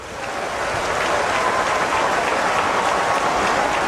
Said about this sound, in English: Loud applause for Joyce Banda, first woman president of Malawi